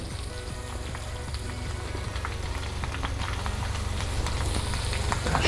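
Shrimp sizzling in butter in a cast iron pan set on a Weber kettle grill, a steady dense crackle and hiss with scattered pops, close and continuous, growing slightly louder throughout, no voices.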